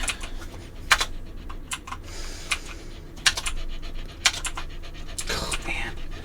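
A dog pants rapidly and steadily up close, with sharp clicking taps and a soft voice briefly underneath.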